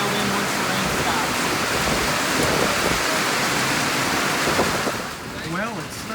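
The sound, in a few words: heavy rain with thunder during a storm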